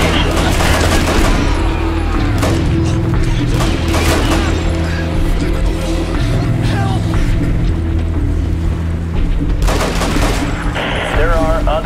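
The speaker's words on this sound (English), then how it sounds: "shots fired in your location" Rapid bursts of gunfire from the video game Hatred crackle loudly and densely, with sharp repeated shots clustering at the start and end, mixed with game sounds and a brief voice.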